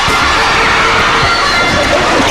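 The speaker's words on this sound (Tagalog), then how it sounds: "And the crowd reacted to every attempt by Negros." A basketball crowd at a Negros versus Cebu game roars continuously and loudly, with shouts and cheers running through the dense noise.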